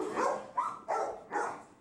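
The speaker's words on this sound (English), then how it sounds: "You know the sound of an animal shelter. Lots of barking, lots of noise." Several dogs bark in quick succession at an animal shelter, four sharp barks echoing close by in a reverberant space, with no talking.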